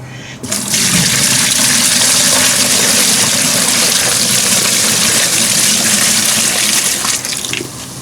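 Rainwater is poured into a self-wicking bucket of soil, a loud, steady gushing splash that starts abruptly, runs close and continuous for several seconds, then tapers off.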